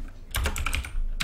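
Quick typing on a computer keyboard, a short close burst of clattering keystrokes with a brief pause before a final key press.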